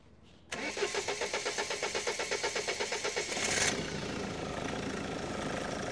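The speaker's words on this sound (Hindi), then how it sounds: "कीजिए जी स्टार्ट, कीजिए गाड़ी," A Mahindra Scorpio diesel engine with a fuel supply problem, cranked by the starter in a long run of rhythmic chugging pulses before catching and settling into a rough, steady idle, close by with no talking.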